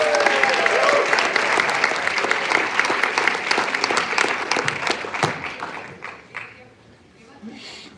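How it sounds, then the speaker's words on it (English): Audience applause for graduate students at a 3 Minute Thesis competition: dense, lively clapping from a large crowd, sustained for several seconds before thinning out and tapering off. "let's have another round of applause for our grad students"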